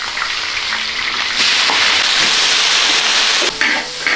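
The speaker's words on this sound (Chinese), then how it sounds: "开始炒勺筋。" Shaojin greens are stir-fried in a wok, producing a loud, dense hissing sizzle that swells as the greens hit the hot oil, with scraping stirs throughout.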